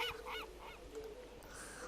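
Honking, goose-like bird calls in the video game Minecraft (RLCraft modpack) repeat several times over a steady low background hum, fairly close and moderately loud.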